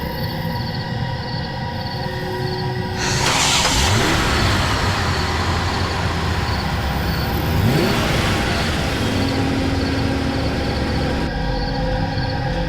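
A hearse drives along a deserted road on a cold, foggy night, its engine rumbling steadily under a rising whoosh as it passes, the motor sound holding throughout at moderate loudness.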